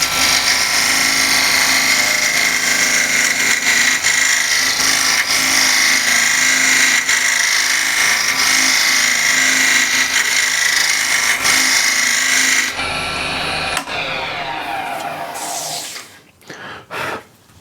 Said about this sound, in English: So now I'll use the 80-degree scraper